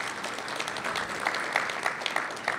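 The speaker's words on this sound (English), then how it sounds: "Give him a round of applause." Applause from an audience at a certification program launch event, a steady wash of many hands clapping at moderate distance, continuous throughout with a few sharper individual claps standing out.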